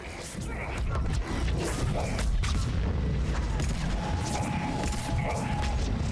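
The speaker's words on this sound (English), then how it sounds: "Oh, that explosion." Deep booming blasts and crashing impacts from an explosion in Mass Effect 3 Legendary Edition on Thessia, rumbling heavily for several seconds amid other combat noise.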